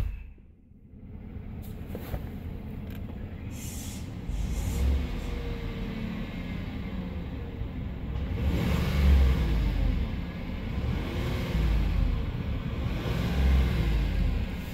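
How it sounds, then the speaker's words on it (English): A 2015 Chevrolet Tahoe LT engine idles low, then rises in a few rumbling revs that swell and fall back, heard up close with no talking. "give this one a few revs."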